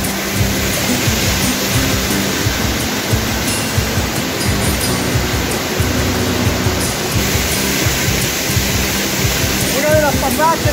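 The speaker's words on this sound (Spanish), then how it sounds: "aquí nos encontramos con una cascada donde tenemos que seguir nuestra ruta" Waterfall on a trekking route near San Alfonso, toward the Cascada de los Vientos: a loud, steady broadband roar of falling water fills the whole stretch, close by and unbroken.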